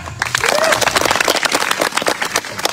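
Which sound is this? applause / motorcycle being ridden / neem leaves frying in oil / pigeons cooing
applause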